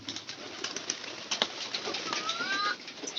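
Pigeons cooing softly with occasional wing flaps and shuffling, a short, quiet stretch close by.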